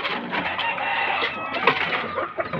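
Fighting cocks, hens and chicks in a Philippine yard: steady overlapping clucking and chirping from several birds close by, busy and continuous with no talk.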